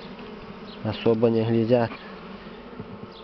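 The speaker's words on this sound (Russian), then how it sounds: "Пчелы у нас местные" Local honeybees buzz at their hive, a close, thick droning burst that swells for about a second before fading back into a low background hum, with a voice speaking briefly.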